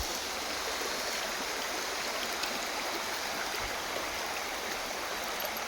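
Water flows through a shallow stream in a steady, close, broadband rush with no voices present.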